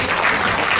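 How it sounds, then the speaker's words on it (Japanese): A crowd applauds at a classic car festival award ceremony in Maebashi, producing a steady, dense wash of clapping throughout the brief moment with no voices. "拍手どうぞお送りください。"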